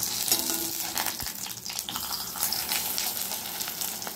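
Nine-grain adai roasting in oil on a griddle over a medium flame, a close, steady crackling sizzle with light scraping of a spatula now and then, and no voices.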